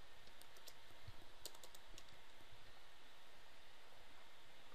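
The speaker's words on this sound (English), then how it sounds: "I enter a product receipt number." Someone types a product receipt number on a computer keyboard, soft key clicks in an uneven burst over quiet room hiss, with no talking.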